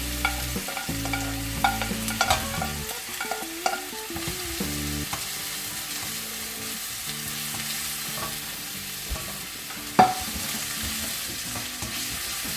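Minced garlic and diced onions stir-fry in a pan for a tofu dish with a constant sizzle under repeated scraping and clacking of a utensil against the pan, close and uneven, with no one talking.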